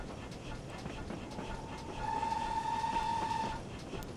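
A GWR Pannier Tank steam locomotive whistle in Train Simulator 2020 sounds as one steady, sustained shrill tone for about a second and a half, rising clearly above the rumbling engine and cab noise.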